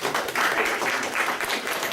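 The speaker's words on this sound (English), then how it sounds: "Let's applaud those people." A small room of colleagues at a real estate team meeting clap for top-selling agents, a dense steady patter of many hands applauding together throughout.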